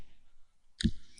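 A single crisp computer mouse click, close and quiet, standing alone against near silence.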